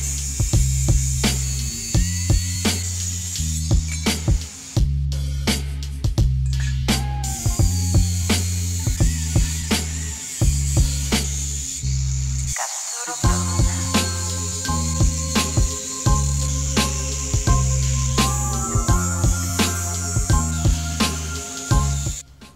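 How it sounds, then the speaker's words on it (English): A leftover piece of steel being cut down with an angle grinder, a loud steady whine broken into repeated strokes with short pauses and one brief stop midway, no voices. "I have this leftover piece of steel. I'll grind one piece off and use that as a connecting thingy."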